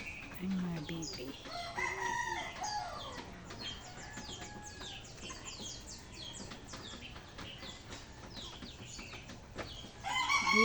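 Chickens and a rooster at a yard in San Vicente, with repeated crowing and clucking calls near and far over soft background noise, some faint chirping birds, and a louder crow at the end.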